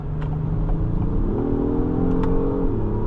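Acura MDX Type-S engine in Sport Plus mode, a steady loud drone that climbs in pitch as it accelerates, levels off, then drops back near the end as a gear shifts, heard from inside the cabin.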